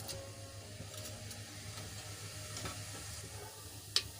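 Cumin seeds sizzle in hot oil for a khichdi, a soft steady frying hiss with light stirring scrapes and one sharp tap near the end, no voices.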